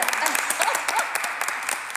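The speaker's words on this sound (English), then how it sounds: "So let's give a round of applause for Megan." A room at a city zoning board meeting applauds an employee of the month, with brisk clapping from a modest crowd and some voices underneath.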